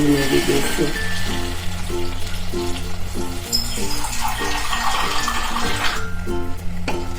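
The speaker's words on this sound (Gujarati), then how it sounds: "દોઢ ગ્લાસ મેં પાણી ઉમેર્યું છે" Water is poured from a glass into a pan of pav bhaji vegetables, a continuous splashing gush up close, with a rhythmic background hum beneath.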